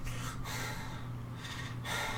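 The Big Daddy's heavy, hoarse breathing from the video game BioShock, a steady rasping inhale and exhale that repeats in slow cycles, loud and close with no talk over it.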